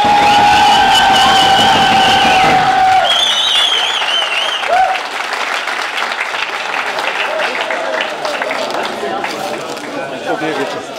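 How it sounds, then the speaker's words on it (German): Spectators at a gym fight night applaud two boxers after their bout, with clapping and crowd noise running through, overlaid at first by a sustained tonal hum and a voice talking. "Ich denke mal, auch hier haben sich beide Boxer nochmal einen Applaus von euch verdient."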